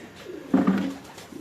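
A black-faced pigeon gives one short, throaty coo, close and moderately loud, with faint coos trailing before and after.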